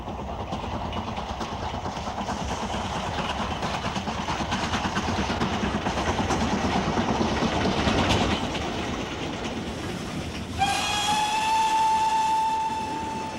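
A steam locomotive on a UK rail line works hard up a gradient, its rapid exhaust beats and wheel clatter building in loudness, then a shrill steam whistle sounds near the end.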